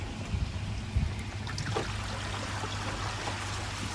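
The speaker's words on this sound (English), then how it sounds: "Turn the multi-port to backwash, which is that one. And switch the pump on." A koi pond filter pump runs on backwash while water streams and trickles steadily, with a low pump hum underneath.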